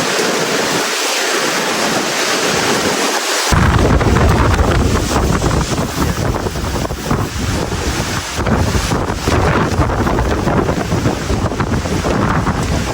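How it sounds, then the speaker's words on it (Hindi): A sudden strong storm wind roars loudly and steadily, buffeting the microphone with constant gusts after a few quieter seconds at the start. "कभी जो हवा है वो स्पीड से आना शुरू हो जाती है, तूफान स्पीड से आना शुरू हो जाता है।"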